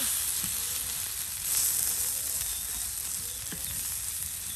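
Fish fry with onion and garlic in a village kitchen, giving a loud, continuous sizzle and crackle at close range, with occasional soft knocks of stirring underneath.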